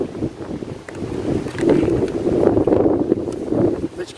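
Wind gusting across a carp fishing spot by the water, a steady low rumbling roar with buffeting on the microphone that swells louder midway and stays fairly constant, with no talking.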